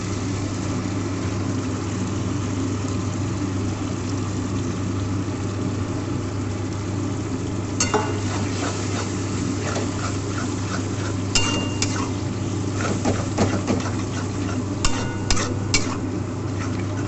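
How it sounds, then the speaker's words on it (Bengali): Boiled loitta (Bombay duck) fish tipped into a pan of hot oil and stirred. A constant low hum runs throughout, then scraping and clinking stirring strokes start partway through and repeat irregularly. "লইট্টা মাছ, এটা আমি দিয়ে দেবো"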